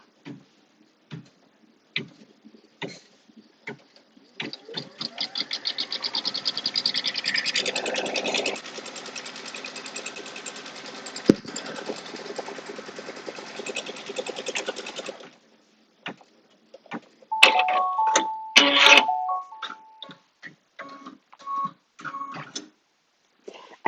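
An embroidery machine stitches a placement line for the front panel of an in-the-hoop quilted notebook cover, giving a steady close mechanical chatter of rapid needle strokes for about ten seconds, then clicks and a brief whir.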